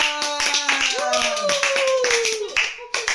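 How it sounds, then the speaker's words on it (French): A group claps for Roman at a school project event, sharp hand claps rattling along under a voice that keeps talking and a sustained tonal sound throughout. "On applaudit Roman"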